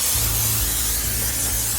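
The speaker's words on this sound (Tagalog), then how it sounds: "Ngayon, i-spray natin siya" Cooking spray hissed onto tin pans for bread, a short close burst of steady loud aerosol spray.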